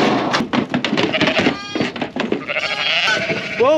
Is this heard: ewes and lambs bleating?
yes